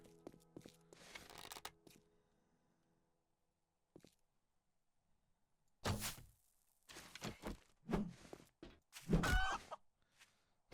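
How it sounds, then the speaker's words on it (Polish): A chicken clucks in the survival video game 7 Days To Die, with several loud, close bursts of clucking and squawking separated by quiet gaps and a few thuds. "Patrz, jak kura zapierdziela."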